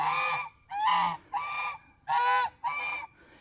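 Geese honk loudly in five separate bursts, each a harsh, nasal call with short pauses between, close and clear with no other sounds.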